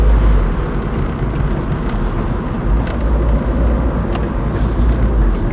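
Car engine droning steadily at low speed from inside the cabin, with road rumble and no speech, while slowing for a turn into a car park where the speed limit is 50.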